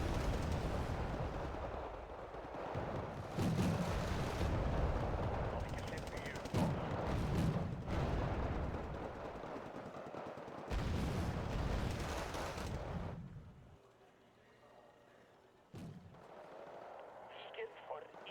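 Heavy incoming gunfire in a combat video game, loud rattling shots and booming impacts overlapping for long stretches, then dropping away to a quieter hum broken by a single sharp crack; voices talk through the fighting.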